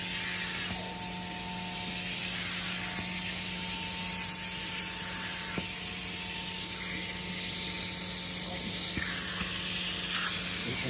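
An upholstery extraction tool spraying and suctioning water from furniture, a continuous close hissing suction with a steady motor hum underneath, lasting throughout with slight variations as the tool moves.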